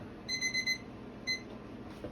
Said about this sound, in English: my timer is always going off